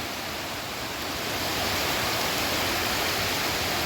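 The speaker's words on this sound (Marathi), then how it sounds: "सुंदर असा गावचा वॉटरफॉल" A village waterfall in a deep natural pool, swollen and muddy after a flood, roars with a steady, loud, broadband rush of falling water that fills the whole scene without break.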